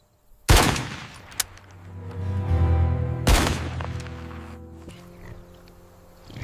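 A gunshot fired at a wild boar on a farm: two loud, sharp blasts about three seconds apart, each trailing into a ringing, rumbling decay, with no talking.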